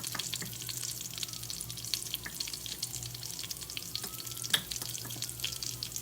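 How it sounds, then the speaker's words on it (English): Cumin seeds fry in hot oil in a pan, a close, continuous fine sizzle with small crackles and pops scattered through it, heard alone without talk. "So you can see the seeds are sizzling, but they're not quite popping yet."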